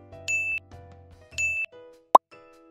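A Samsung Galaxy phone set on its wireless charging base gives two short bright chimes about a second apart, then a single quick plop-like ding, all faint and clean with no talk.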